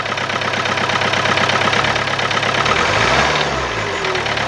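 An old diesel car engine idles with a rapid, regular knocking tick, loud and close under the hood, the engine note rising briefly as it is revved.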